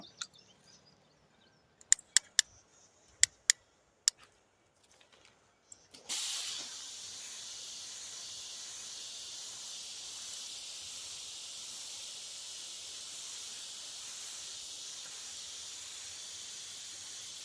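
Garden hose nozzle spraying water outdoors, a steady soft hiss that starts suddenly after a few scattered clicks and knocks and then runs evenly to the end, no talk.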